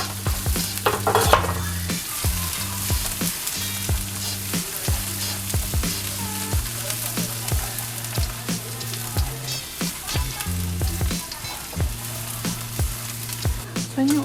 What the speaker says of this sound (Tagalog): So medyo tutustahin natin yung garlic.